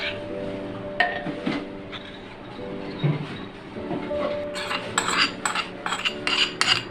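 A metal spoon clinks and scrapes in a pot while rice is layered over chicken for handi biryani, with irregular taps and scraping that grow busier toward the end, close up over a faint background hum.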